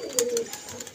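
A female pigeon of the chatiyal type gives a single short, soft coo up close in a brief moment.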